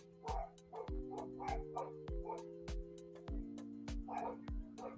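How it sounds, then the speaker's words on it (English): Several dogs bark in repeated bursts at trick-or-treaters on Halloween night, some yips mixed in, fairly close and insistent over a steady low background hum across the whole stretch. "If you hear the dogs barking, it's because people going on for trick or treat"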